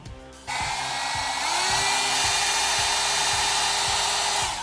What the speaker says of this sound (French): on va passer également un petit coup de sèche-cheveux